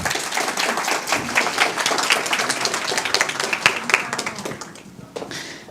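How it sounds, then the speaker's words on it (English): A graduation ceremony audience at the Harbour.Space at UTCC campus in Bangkok breaks into sustained applause: dense, steady clapping from many hands that holds throughout and thins slightly at the end. "Please give her a round of applause."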